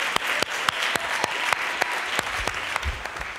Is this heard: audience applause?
yes